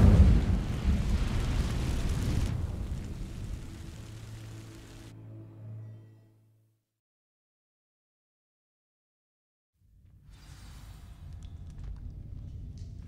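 Incendio fire spell igniting dry vines in Hogwarts Legacy: a loud whooshing burst and roar of flame that fades over several seconds with a low hum, then silence before a dim ambient bed returns.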